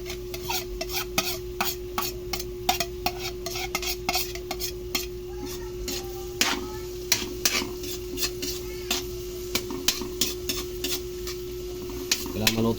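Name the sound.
onions sautéing in a pan for spaghetti sauce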